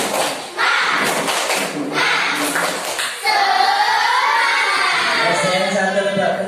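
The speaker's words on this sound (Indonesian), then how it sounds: "Tepuk semangat." Children clap and shout a rhythmic 'tepuk semangat' chant in bursts of loud, crowded clapping with cheering, then voices carry on in a sustained shouted, sing-song call.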